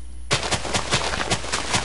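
A rapid string of TNT blasts in Minecraft, loud game explosions going off one after another in a fast, irregular rhythm of sharp bangs lasting under two seconds with no talk.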